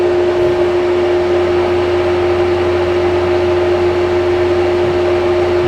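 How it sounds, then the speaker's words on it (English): Steady electric hum of the cooling system on an Air Venturi 4500 psi air compressor, a constant fan-like whir with a pronounced tonal drone, running alone at close range without change. "The cooling system still running."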